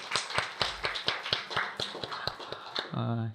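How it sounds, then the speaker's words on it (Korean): A church congregation gives encouraging claps after a child's nervous performance at a holiday service, heard as a loose series of sharp, separate claps rather than full applause, ending in a low hum. "우리 격려의 박수를 한번 해주시면 감사하겠습니다"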